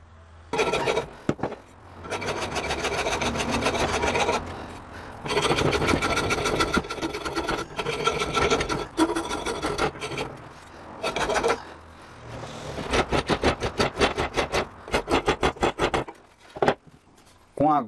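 Wood rasp shaping a gourd body for a rabeca fiddle, long bursts of coarse rhythmic scraping close by, broken by short pauses and ending in quick rapid strokes.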